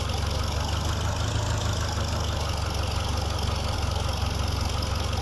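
A tractor engine idles in Farming Simulator 2013, a loud, steady, rumbling drone that holds unchanged throughout with no voices over it.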